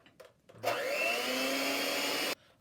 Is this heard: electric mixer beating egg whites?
yes